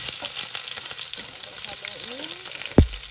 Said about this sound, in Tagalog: Onion.